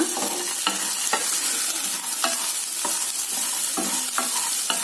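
Peanut chutney ingredients sizzle loudly in a pan while a spatula scrapes through them in regular strokes roughly every half second, close up with no voices.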